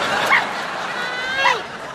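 A dog gives two short excited yips and whines about a second apart, close by, over a steady background of chatter and noise at a family home during a Lunar New Year comedy scene.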